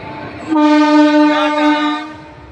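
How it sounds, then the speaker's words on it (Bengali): A train passes in front of a house, sounding a loud, sustained horn blast that rises suddenly and holds for about a second and a half before fading under low rumbling. "এই দেখুন আমার বাড়ির সামনে দিয়ে ট্রেন যাচ্ছে"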